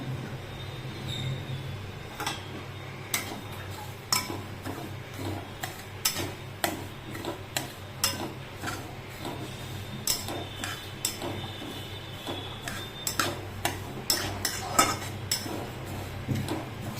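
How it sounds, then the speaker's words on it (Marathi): Poppy seeds dry-roasting in a hot kadhai, with steady light ticking and scraping as a utensil stirs them against the metal, quiet and close, a low hum underneath. "आता इथे मी शंभर ग्रॅम खसखस घेतलेली आहे ते भाजून घेते मी आता"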